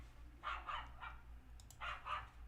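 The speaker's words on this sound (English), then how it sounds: "And there's my neighbor's dog." A neighbour's dog barks outside, two quick pairs of muffled, distant barks, faint over a steady low hum indoors.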